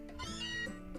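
A single short cat meow from the video game Pokemon Sun, clear and close, with a rising then falling tone, alone without any talking.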